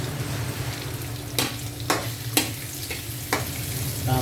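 Onions fry in a pan for seafood cooking, with a steady sizzle and crackle under a low hum and occasional sharp scrapes and clatters as they are stirred.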